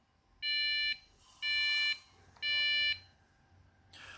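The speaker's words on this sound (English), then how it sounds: "we are getting a beep." Dell OptiPlex desktop emitting error beeps at power-on with new RAM fitted: three evenly spaced, loud, high electronic tones of about half a second each, followed by a short burst of noise.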